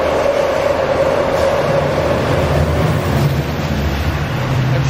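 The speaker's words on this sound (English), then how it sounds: "Gotta wait for these two express trains to go." Express commuter trains rush past on a railway near Bellmore, a steady loud rumble and roar filling the whole stretch with a sustained low hum, no voices heard.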